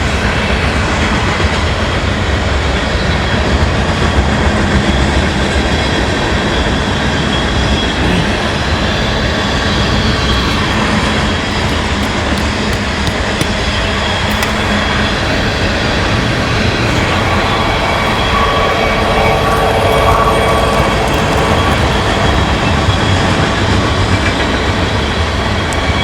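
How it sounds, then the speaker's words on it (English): A train rumbles by nearby, loud and continuous, with a steady roar of wheels and rail clatter and no voices. "the real train is now going behind us as well"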